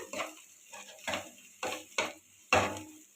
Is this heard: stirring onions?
yes